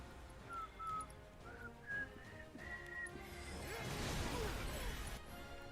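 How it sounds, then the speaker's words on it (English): A player whistles off-key, a series of wavering sustained notes that rise and fall, followed by game combat crashes and whooshes building up underneath. "Because everyone wants to hear my off-key whistling."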